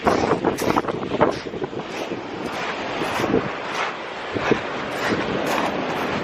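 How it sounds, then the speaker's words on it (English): Strong wind gusting on a beach at night in Suffolk, roaring steadily into the microphone with a rough, buffeting rush that swells and eases, waves faintly under it. "the wind's blowing so much my hat's coming off"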